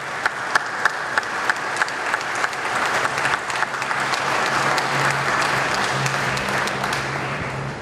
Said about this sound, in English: let's give the Red Sox a special round of applause